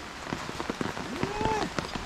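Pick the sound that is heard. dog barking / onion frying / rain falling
rain falling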